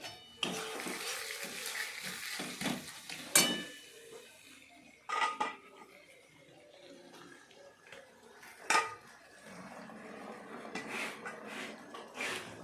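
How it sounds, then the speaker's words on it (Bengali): Garlic being ground by hand on a stone for a meat curry, with repeated scraping and knocking strokes, some sharp hits standing out, close and fairly loud with kitchen clatter and a faint sizzle. "এখন রসুনটা বাটতে হবে রসুন বাটা শুরু করেছি"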